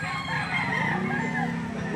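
Roosters crowing among clucking chickens at a poultry auction market in Lipa, Batangas, a busy overlapping chorus of close crows and cackles with crowd murmur beneath.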